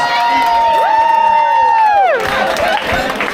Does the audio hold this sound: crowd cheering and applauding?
yes